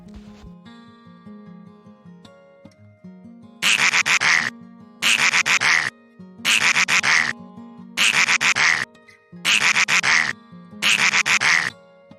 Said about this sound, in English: Duck 鸭。